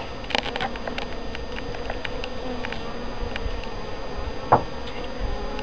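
Honeybees buzzing as they feed on sugar, a steady dense drone of many insects close by, with a few sharper passes and one brief louder buzz near the end; no one speaks.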